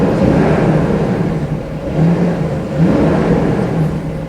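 A 1993 Mercedes SL500 engine revs in loud, close waves that surge and ease several times over a steady hum, no talking.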